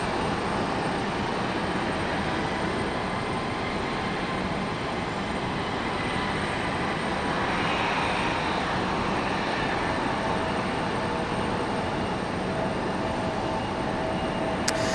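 A CRJ 700 regional jet and an ATR turboprop taking off side by side at Raleigh-Durham International Airport, blending into one sustained, moderately loud engine roar with a faint whine drifting over the steady rumble.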